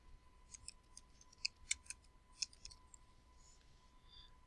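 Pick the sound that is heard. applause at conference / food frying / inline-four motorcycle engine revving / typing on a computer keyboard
typing on a computer keyboard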